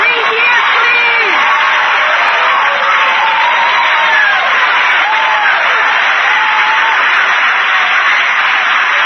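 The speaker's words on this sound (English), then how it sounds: "Give her applause." Audience applause and cheering at a Narcotics Anonymous speaker meeting, a steady, loud roar of clapping with whoops and raised voices rising through it, sustained for nine seconds.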